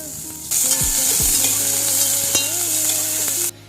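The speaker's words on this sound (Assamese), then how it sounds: "তেলখিনি গৰম কৰি ইয়াতে শুকান মাছখিনি অলপ দি দিছোঁ।" Dried fish fries in hot oil for an Assamese dry fish chutney, a loud, steady sizzle that starts abruptly and holds evenly for about three seconds before cutting off, with no voices.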